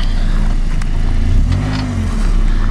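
A Lada Niva 2131 stuck off-road with its engine revving hard in a steady loud drone that rises in pitch partway through, with no voices.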